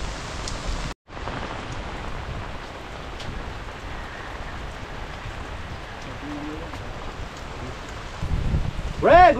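Steady rain falls during a typhoon in the Philippines, a continuous hiss of drops with a brief dropout near the start and a louder rustle at the end.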